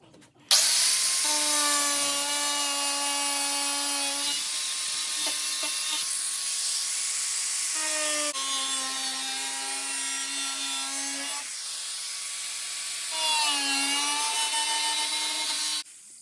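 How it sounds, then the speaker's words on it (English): An angle grinder cuts rusty metal around a car axle mount in a continuous close, loud, high whine. The pitch dips and rises as the disc bites into the steel and eases off, with no speech. "we'll get the grinder out and we'll cut some of this out"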